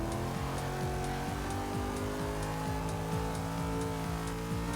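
Race car in Forza Motorsport 6 on Watkins Glen, D Class, accelerating out of a corner: a loud, steady engine note climbing repeatedly through gear changes, close and continuous with no talking.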